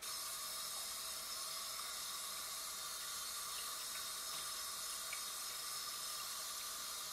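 Tap water running steadily into a sink while a face mask is rinsed off, a faint even hiss and spatter with no other sounds.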